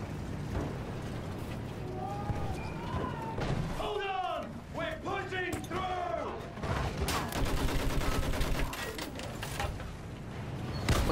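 Rapid gunfire and explosions from the World War I shooter Battlefield 1 crackle amid battlefield noise, with shouted voices and bursts of shots growing denser toward the end.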